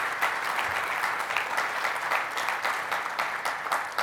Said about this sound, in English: one more round of applause for an amazing group of panelists and moderators and speakers